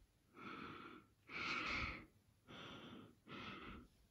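Light breathing through a WW2 Czechoslovak gas mask, four slow, hollow, wheezy breaths close up, each lasting under a second with short pauses between, alone with no talk.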